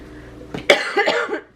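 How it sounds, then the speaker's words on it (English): A few harsh, close coughs burst out in quick succession over a quiet room during a cross-stitching session, with no talking. "I don't want to annoy you with my cough."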